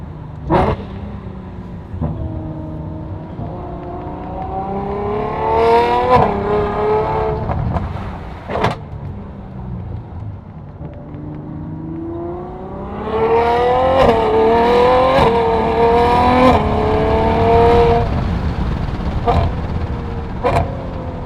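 A decatted Ferrari F12 on straight-pipe exhaust drives and revs, its engine climbing through rising tones in two long bursts with sharp blips between, loud and close, while a dog barks briefly.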